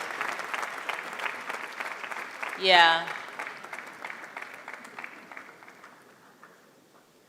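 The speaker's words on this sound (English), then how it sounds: "How long the clap lasts tells me how much you enjoyed him." Audience at a live radio event claps for a seprewa performer, a sustained burst of applause that gradually tapers off, briefly overlapped by a short spoken word and a whooping cheer near the middle.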